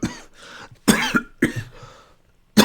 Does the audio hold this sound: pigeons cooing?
no